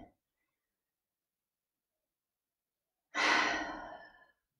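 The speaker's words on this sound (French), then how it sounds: "Très grosse respiration." A single deep exhale during a yoga breathing exercise comes after a long silence, a close, breathy rush that fades out over about a second.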